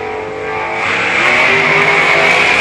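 Drag race cars roar loudly off the line, an 86 Mustang against a supercharged blown dragster, engines swelling into a sustained, dense high-revving howl that builds in intensity after the first second.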